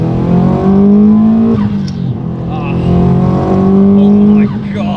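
A built 450bhp Subaru Impreza WRX Blobeye pulls hard under load, its flat-four engine note rising in two long surging sweeps with a brief dip between, loud and close, with a rough boxer burble underneath.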